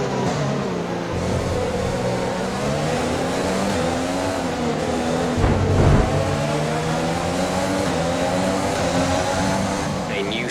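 An F1 2020 race car pulls out of the pit lane and accelerates up to speed, its engine whining loud and close with rising and falling pitch and a short louder surge midway.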